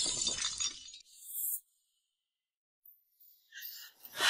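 A porcelain plate shatters with a bright, crashing burst, followed by a second sharp impact. After a short silence, scattered pieces clink and rattle in a few more quick bursts.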